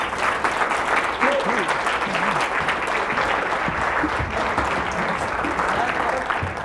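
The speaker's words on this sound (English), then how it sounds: "Let's give a big round of applause for Clay Clark." An audience at a motivational speaking event in Las Vegas applauds steadily for a speaker, dense continuous clapping with faint voices mixed in.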